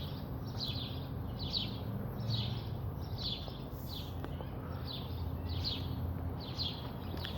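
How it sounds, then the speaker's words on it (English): Small birds chirp outdoors on a clear day, a steady series of short high calls repeating about every half second, fairly faint over a low constant background hum. "The birds are chirping."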